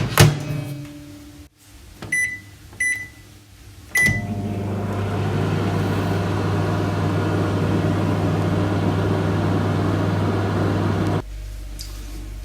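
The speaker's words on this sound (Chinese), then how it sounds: "把这个放在微波炉里2分钟，里面的豆沙馅就热了，放在微波炉里。" A microwave oven heats a frozen Yorkshire pudding shell stuffed with red bean paste: a few short button beeps, then a steady low hum with a fan whir running for several seconds before it cuts off.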